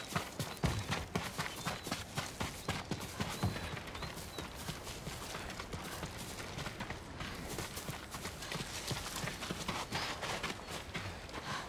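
Horse hooves clip-clop steadily in the Ghost of Tsushima video game, a faint, continuous patter of footfalls under a wash of ambient noise with no talking.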